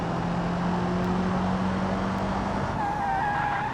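Car in the BeamNG driving game braking too late and skidding, a steady engine and road roar with a tonal tyre squeal rising near the end, loud and continuous without speech.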